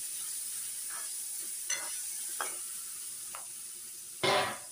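A steady frying sizzle of peas roasting in a pan runs throughout, broken by occasional scrapes of a spoon stirring and one louder clatter near the end.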